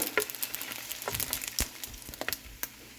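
Food being fried in oil in a home kitchen gives a soft, steady crackle with scattered sharper pops and spatters, fairly faint, with no talk.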